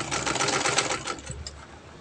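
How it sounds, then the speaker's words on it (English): A sewing machine runs in a fast, steady, loud stitching rattle while sewing a turban cap from sego fabric, slowing slightly toward the end. "I'm just going to be stitching that part"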